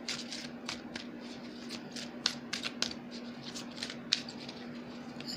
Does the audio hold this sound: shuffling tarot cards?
yes